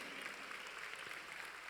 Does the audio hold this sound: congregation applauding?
yes